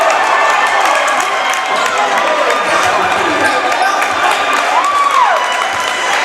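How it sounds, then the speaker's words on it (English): Home crowd at a Portland High varsity boys' basketball game against Edward Little in a gym, roaring loudly and steadily throughout as a dense wall of cheering, with a commentator's voice faintly under the noise. "That electrifies the Portland crowd"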